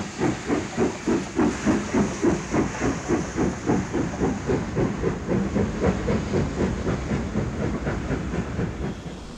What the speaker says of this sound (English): Seven 2007, once Clan Mackintosh, leaves Settle on a southbound stopper.